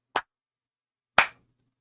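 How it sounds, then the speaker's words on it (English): Two sharp hand claps sound in the distance about a second apart, each crisp and brief against silence. "clapping his hands in the distance"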